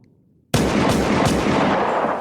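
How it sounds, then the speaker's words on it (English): Gunshots from a Glock pistol played back from a recording: a sudden loud burst of gunfire that holds as a dense, continuous roar of rapid shots for nearly two seconds, alone with no voices. "Just wait for the gunshots."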